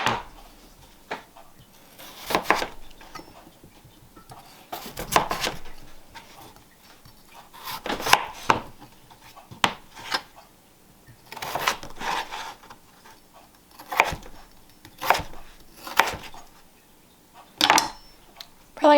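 A knife chops vegetables being prepared for home canning, giving irregular sharp knocks on a cutting board, some single and some in quick clusters, close and fairly loud with quiet gaps between.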